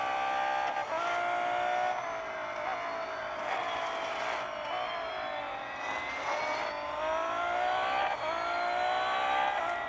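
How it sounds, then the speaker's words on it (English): A Lotus electric race car's motor whines in a racing video game, thin rising and falling tones sweeping repeatedly over a steady engine drone, heard at a distance across the circuit. "you hear that whining electric motor from Lotus, like on the other side of the circuit"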